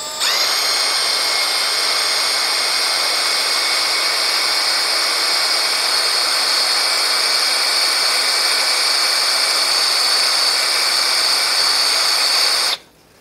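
A power drill with a slightly bent bit whines at high speed for about thirteen seconds while drilling out a broken stud on a Brunswick A2 bowling pinsetter, loud and steady before stopping abruptly.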